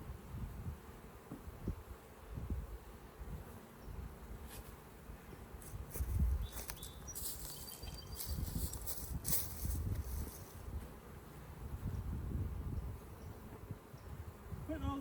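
Bees buzzing around an open beehive during an inspection, a continuous low droning hum with occasional rustles and handling clicks, moderately close and fairly quiet.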